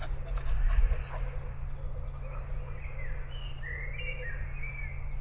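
Several birds sing and chirp outdoors near picnic tables, their bright calls scattered across the clip over a steady low outdoor rumble.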